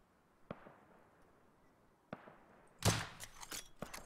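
Gunfire in the survival game Rust during clan PvP combat: a couple of faint isolated shots early, then a louder cluster of sharp cracks near the end, distant and thin over low background hiss.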